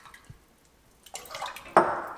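Water pours from a jug into a pot on a gas stovetop, beginning with a faint drip and then a splashing stream that strikes harder near the end, close by.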